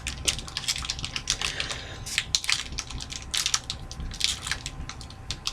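A Pokemon trading card pack is torn open by hand, giving dense crinkling and crackling of foil wrapper in quick irregular bursts, close and moderately loud, with no voices.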